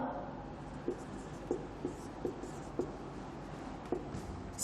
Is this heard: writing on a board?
yes